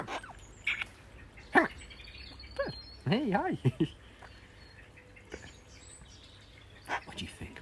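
A nearby bird gives short chirps and sweeping, warbling tweets in scattered bursts, close and fairly clear, while a person speaks briefly.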